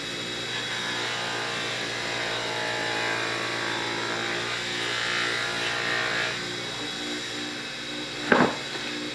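A spinning buffing wheel runs with a steady, even motor whine while polishing compound is pressed onto it, ending with a brief louder scuffing bump near the close.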